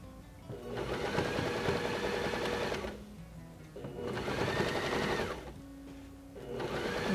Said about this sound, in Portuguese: Vou passar uma costura.